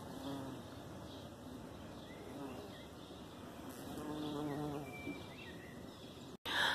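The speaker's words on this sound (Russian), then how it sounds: "а я вижу вот этих вот огромных шмелей" Large bumblebees buzzing nearby outdoors, a steady droning hum that swells louder midway as one flies close, continuing without pause before a brief cutoff near the end.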